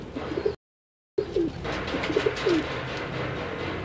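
Breeding pairs of pigeons and their young coo softly on a rooftop in Gujarat, with several short rolling coos heard close by over quiet background noise, broken by a brief silent gap.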